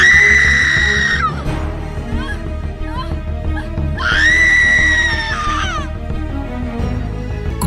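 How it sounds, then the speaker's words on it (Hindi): A woman in a Hindi horror audio drama lets out two long, piercing screams, one at the start and another midway, loud and close over a low dramatic background. "तुम चीख क्यों रही हो?"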